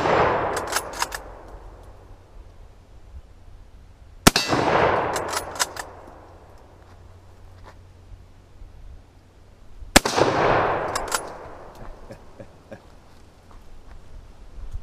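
Three heavy blasts from an unrefurbished Mosin rifle fired downrange, spaced several seconds apart, each a sharp ringing crack with a metallic clang and a long echo fading out, outdoors and close.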